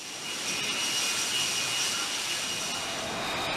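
An F-35 single-engine stealth fighter jet runs aboard an aircraft carrier at sea, producing a loud, steady, continuous roar with a hissing high whine, heard alone without speech.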